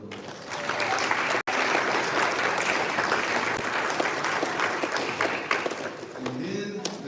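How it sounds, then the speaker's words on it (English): A banquet crowd at a school athletic event applauds steadily and loudly for the full stretch, a dense wash of many hands clapping with a brief cut near the start and a few voices rising at the end. "Give her a round of applause."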